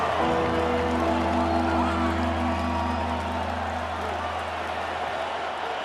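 A stadium crowd in Madden NFL 26 roars steadily and loudly throughout, a broad continuous wash of cheering with a low sustained hum beneath it.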